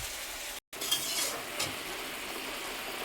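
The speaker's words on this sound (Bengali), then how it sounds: "গুড়ের চাটনি করছি গুড় দিয়ে। গুড়টা দিয়ে দিচ্ছি, এটা গলে যাবে।" Jaggery chutney cooking in a pan, with a steady sizzle and the scrape of stirring running throughout, briefly cut out for a moment near the start.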